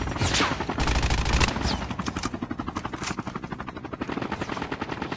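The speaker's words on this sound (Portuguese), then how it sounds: "Tem gente de helicóptero por aqui" Close gunfire opens a Call of Duty firefight on a mobile phone, then a helicopter's chopping rotor beat takes over and holds a steady rhythm to the end.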